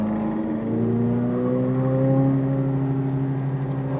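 A Corvette Z06 on the SpeedVegas race track, its engine droning loud and close with steadily rising revs under acceleration, no voices over it.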